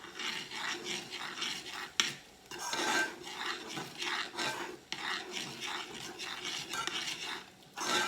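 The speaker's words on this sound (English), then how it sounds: "It's gonna get all mixed and melted and combined. You don't want to stop stirring though." Continuous rhythmic scraping of a spoon stirring a melting treat mixture in a pan over medium heat, with repeated strokes at a steady, even pace and no talking.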